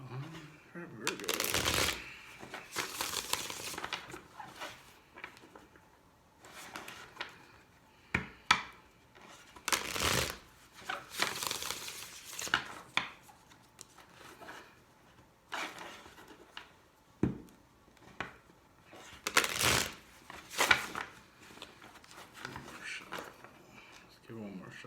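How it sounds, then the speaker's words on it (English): Tarot cards are shuffled by hand in repeated crisp riffling bursts, each a second or two long, separated by quieter pauses with soft card handling and a person talking in between. "Let's give one more shuffle for Virgo."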